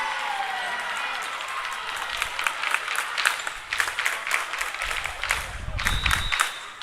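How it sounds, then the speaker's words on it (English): A high school volleyball crowd in a gym claps after an ace on a jump serve, with rhythmic clapping rising under a commentator's voice and sneaker and ball sounds nearby. "Little hog-eye clap here from the big Livingston crowd."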